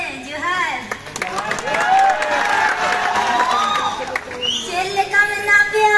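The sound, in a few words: audience clapping at subscriber celebration meetup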